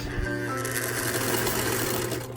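Sewing machine back-stitching a shawl, a short burst of steady mechanical whirring heard close throughout.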